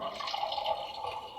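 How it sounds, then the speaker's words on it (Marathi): A steady, close pouring-water sound effect, an even trickling splash that runs unbroken without pauses or voices. "पाणी पडायचा जो आवाज आहे ना तो आम्ही बाहेरून टाकला होता."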